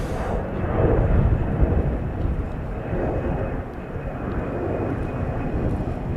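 A jet airliner roars steadily as it takes off from Chicago O'Hare International Airport, a broad, rumbling engine drone that swells slightly then holds loud and continuous with no talking.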